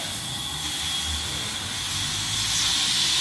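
Air rushing back into a vacuum chamber after the vacuum pump is switched off, in a demonstration of how a liquid's boiling point depends on pressure: a loud, continuous, close hiss that holds steady and swells slightly toward the end.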